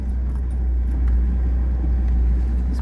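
A Lada Niva Legend pulls away in low-range second gear on a damp rural track, giving a steady, close engine drone with a strong low rumble. No one speaks.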